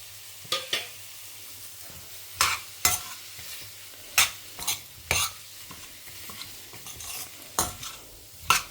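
Boiled potatoes sautéing with chilli powder in a pan for stuffed aloo capsicums, heard as a series of sharp, irregular scraping stirs, roughly a dozen over the stretch, over a faint low sizzle with no talking.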